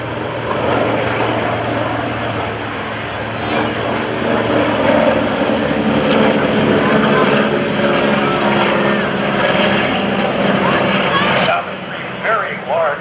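Deep, continuous radial engine drone from three Navy propeller aircraft at an airshow, loud and steady, with a broad roaring hum that swells slightly as they pass close by.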